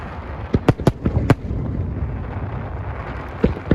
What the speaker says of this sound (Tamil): அதுக்கப்புறம் திரும்ப ஃபயர் ஒர்க்ஸு ஸ்டார்ட் ஆகிடுச்சு